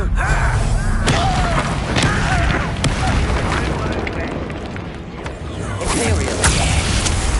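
Bombarda blasting spell explosions in a Hogwarts video game: a few sharp booming blasts with whooshing tails, spaced a couple of seconds apart over a continuous bed of game sound and voice.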